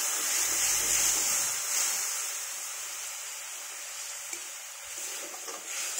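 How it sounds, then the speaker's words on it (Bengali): Spice paste for a prawn and mixed-vegetable curry frying in a pan with a little water added, giving a steady soft broadband sizzle and hiss that runs throughout, with faint stirring and no talk. "মশলাটাকে ভালো করে কষিয়ে নিতে হবে।"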